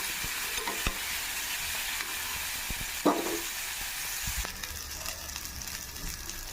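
Water hitting hot oil in a chickpea tempering, a dense steady sizzle and crackle close by, with a single sharp utensil clink partway through and occasional stirring taps.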